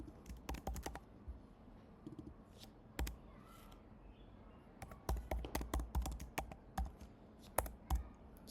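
Computer keyboard typing during copy-pasting of C++ code, quick bursts of close, crisp key clicks and taps with short pauses between, quiet and without talk.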